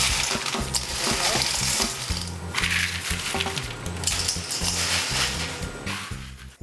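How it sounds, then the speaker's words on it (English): Hard caramelized hazelnuts broken apart by hand in a bowl, a busy run of crunchy cracking and rattling clicks that goes on steadily, close and fairly loud, with brief pauses. "I'm just trying to break them apart so they're individual nuts"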